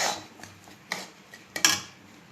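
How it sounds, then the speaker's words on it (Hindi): A spoon scrapes and clinks against a pan while moong dal laddu mixture is stirred and roasted, in a few sharp metallic knocks and scrapes at an irregular pace, close up, with no voices. "तो देखिए फ्रेंड्स ये अभी हम भून रहे हैं"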